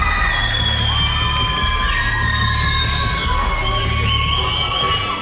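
A television talent-show studio audience in Ecuador cheers, whoops and shouts together for a rock singer impersonator, a dense, steady roar of many voices with high yells rising above it throughout.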